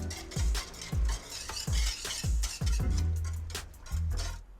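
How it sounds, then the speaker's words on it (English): A spoon stirs Nescafe salted caramel coffee mixture in a container, making rhythmic knocking clinks about every half second over a low swishing, close and fairly loud. "And then give it a stir."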